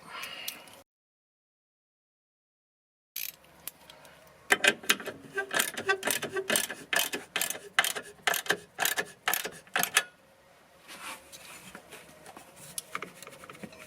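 A ratchet tightens the auxiliary battery terminal on a 2013 Toyota Prius, giving a run of rapid, close clicking pawl strokes in bursts with brief pauses, after a short silence and before quieter handling sounds.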